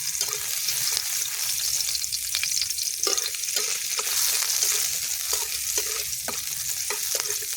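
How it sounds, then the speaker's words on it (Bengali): Dried red chillies and garlic frying in oil in a wok for jute leaf and pea dal, a steady close sizzle with intermittent scraping and stirring clatters. "শুকনো লঙ্কাটা আর রসুনটা এবার ভাজা ভাজা করব।"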